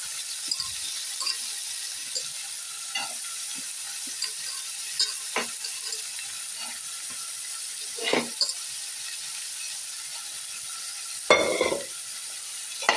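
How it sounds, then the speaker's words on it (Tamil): Broad beans and brinjal sautéing in a pan, a steady soft sizzle with scattered scraping stirs and a louder clattering stir near the end. "கத்திரிக்காய் கூட மொச்சக்கொட்டையை போட்டு நல்லா வதக்கியாச்சு"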